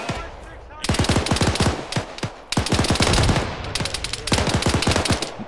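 Bursts of automatic gunfire under a field command to engage, loud close rapid volleys in three clusters separated by brief pauses, with faint voices under the shooting.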